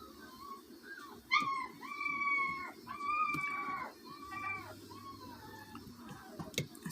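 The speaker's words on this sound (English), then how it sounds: "Sorry about the puppies, guys." Puppies whimper and howl in high, wavering, rising cries, several overlapping calls repeating across the stretch, fairly faint and with no talking.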